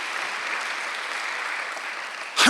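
A church congregation applauding during a Sunday sermon, a steady dense wash of many hands clapping for the whole stretch, with a sudden louder burst at the very end.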